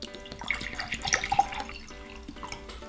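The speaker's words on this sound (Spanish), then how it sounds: "El primer vaso lo llenamos de agua." Water poured into a glass for a kitchen experiment, a soft splashing trickle with small drips, faint and close.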